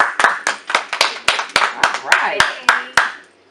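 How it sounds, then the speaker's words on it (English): A small group in a basement studio claps about a dozen times in a sharp, rhythmic burst for guest Nina Ross, and a voice speaks briefly over it. "clap it up for Nina."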